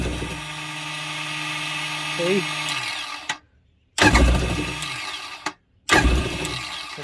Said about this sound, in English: that noise you're hearing, is the starter spinning, but it's just not turning the engine.